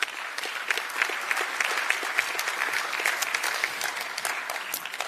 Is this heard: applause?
yes